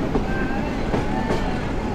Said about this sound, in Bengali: ওই যে একটা ট্রেন আসতেছে সামনে